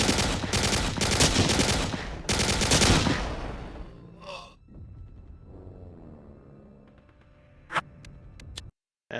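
Submachine gun fire in the WWII game Hidden & Dangerous Deluxe with an overhaul mod: dense bursts of close, loud automatic shots over the first few seconds, then fading into quieter ambience with a couple of sharp clicks.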